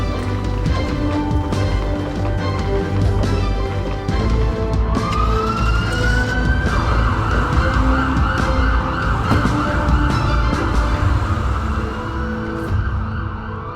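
A loud ambulance siren from a hospital emergency team wails continuously alongside traffic noise, its rising tone sweeping in partway through and holding steady near the listener.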